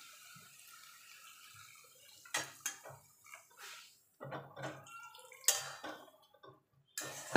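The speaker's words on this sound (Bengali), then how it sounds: "এবার দিয়ে দেবো দুধ।" Pre-boiled milk pours into a pan of cooking carrot halwa, making faint, intermittent splashing and dripping sounds that come in short uneven bursts.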